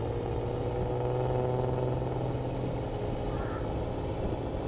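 A Chevrolet Silverado pickup mod engine in Farming Simulator 22 drones at a steady, loud, continuous pitch, with a low rumble and faint mechanical clatter and no pauses throughout.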